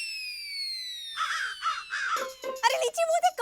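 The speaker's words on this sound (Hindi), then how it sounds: "कौवा फिर से आ गया।" A crow caws several times in a row in a domestic rural setting, loud and close, with harsh repeated calls following a sustained high tone at the start.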